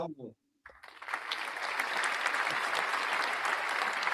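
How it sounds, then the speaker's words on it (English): Applause sound effect played from a sound machine: after a short spoken bit and a brief pause, a steady wash of crowd clapping rises and holds at a moderate level to the end. "Round of applause to you for that."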